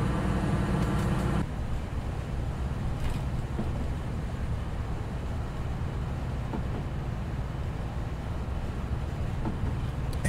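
Steady low rumble inside a train cab in Train Simulator 2019 on the East Coast Main Line, a continuous diesel multiple-unit drone with faint rattles, constant and unbroken with no talk.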